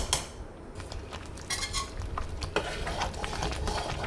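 A spoon stirring sugar into cooked chana dal and semolina prasadam in a metal pan: repeated scraping and clinking strokes, close and steady, with soft rubbing between them.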